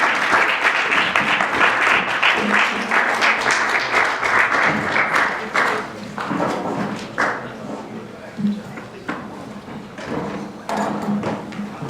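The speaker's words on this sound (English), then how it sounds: "round of applause for these candidates." Student senate debate audience applauding the candidates, dense clapping that is loud at first then thins into scattered claps, with some voices and thuds mixed in.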